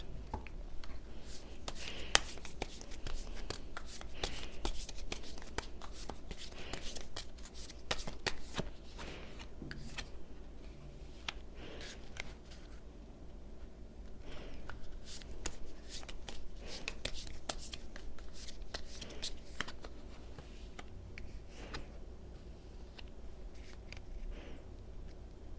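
Tarot cards being shuffled in a couple's love reading, soft repeated riffling and slapping clusters of card noise close by, with quiet pauses in between.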